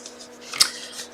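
Scissors make a single crisp snip through paper while trimming a card-making panel, close and clear against a quiet room.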